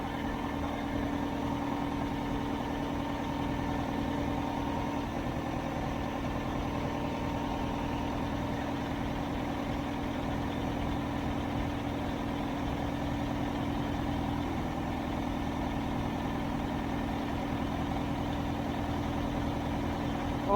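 An old truck engine idles steadily and fairly quietly for about twenty seconds, a low continuous rumble with no revving and no voices.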